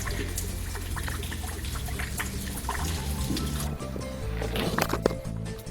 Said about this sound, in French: Ce sont des tuyaux en plastique qui évacuent l'eau qui s'infiltre dans la terre.